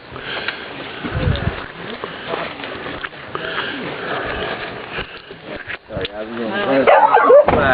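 A dog sniffs around and gives a few barks and yips in a busy house, with people talking throughout and a rising burst of activity toward the end.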